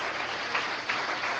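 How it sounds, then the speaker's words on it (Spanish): Church congregation applauding during a sermon, a steady, even patter of many hands clapping together at moderate level. "yo le pido a usted que se dé un aplauso a usted mismo que está perseverando"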